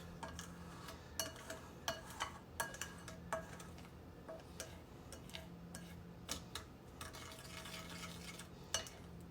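Spoon stirring a sugar and yeast mixture in a bowl, a faint, steady series of light clinks and taps against the sides.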